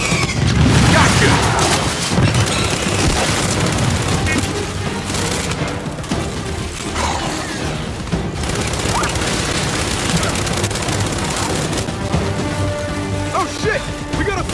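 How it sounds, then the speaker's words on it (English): Lancer grenade launchers in Gears 5 fire repeatedly, with loud booms and crackling blasts rolling on continuously amid battle noise, with voices shouting over the fighting. "Oh, Lancer grenade launchers!"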